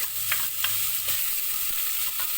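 Onions sizzle steadily in a hot pan while preparing stuffed artichokes, a dense bright hiss with a few soft stirring scrapes and no voices.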